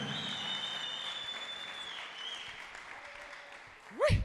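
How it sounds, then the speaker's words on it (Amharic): A church congregation claps along during a worship service: steady, sustained clapping at moderate distance, ending in a brief louder vocal burst. "አጨብጭቡ ለጌታ"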